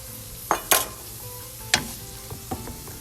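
Soft, steady sizzle of onions and ham frying in a pan, broken by a few sharp scraping knocks of a utensil stirring against the pan.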